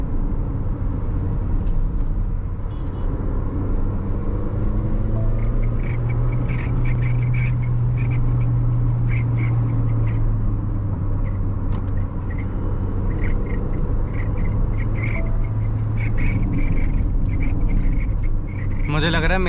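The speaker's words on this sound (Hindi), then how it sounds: "मुझे लग रहा है मेंढक अपनी अंतिम सांसें ले रहा है, इसलिए आवाज बढ़ गई।" Frogs croak and crickets chirp in a steady nighttime chorus beside a road, heard under the continuous rumble of a car's engine, with a sharper burst of noise near the end.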